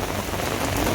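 Heavy rain pours steadily during a Pandharpur wari pilgrimage, a continuous loud hiss of drops drumming on surfaces with no pauses or voices.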